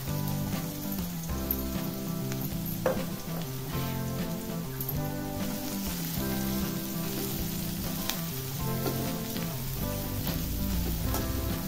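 Garlic and large pieces of green chili fry in oil in a pan, giving a steady, close crackling sizzle that continues throughout without a break.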